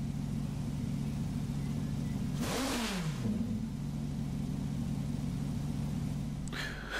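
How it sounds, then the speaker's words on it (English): A loud car engine in a racing video game revs up and sweeps past once with a sharp rising-then-falling whine, over a steady low engine drone, and another burst starts near the end. "since the car is pretty loud, I will just wait."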